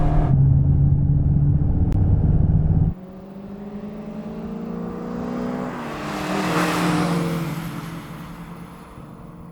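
Volkswagen Golf GTI cars launch in a drag race, a loud close engine roar cutting off abruptly, then fainter rising engine tones building from a distance and swelling as they approach.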